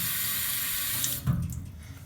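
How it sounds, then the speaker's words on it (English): Running tap water streams steadily while a straight razor is polished on a Norton 8K whetstone: a constant close hiss of flowing water that breaks off with a brief clunk partway through, then quieter dribbling. "I'm doing this under running water"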